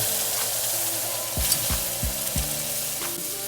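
Liquid is stirred into a browned roux for homemade brown gravy, with a steady sizzle in the pan and a few clear scraping strokes of the spoon against the pot, and no talking.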